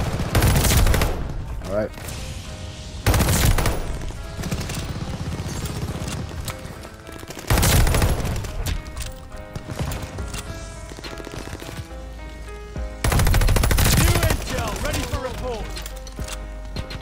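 Bursts of Cooper Carbine fire in COD Vanguard crack out loud and close in four separate volleys of rapid shots, with someone talking briefly between them.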